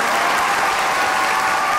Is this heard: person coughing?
no